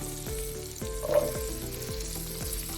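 Carrots and celery sizzle in melted, foaming butter in a soup pot, holding a steady close frying hiss under a series of rhythmic clicks and scrapes, with no voices.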